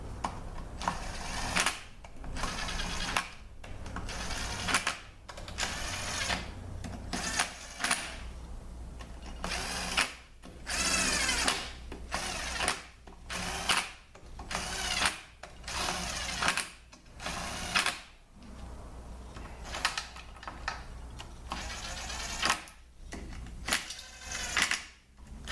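Bolts on an 845RE transmission case being run down with a power tool, a series of repeated whirring bursts separated by short pauses, close and fairly loud with no talking.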